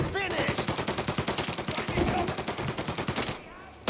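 Rapid, evenly spaced gunshots in Mafia Definitive Edition, a loud burst of automatic fire lasting several seconds before cutting off, with faint talk underneath.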